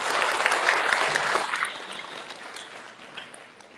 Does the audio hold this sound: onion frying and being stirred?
no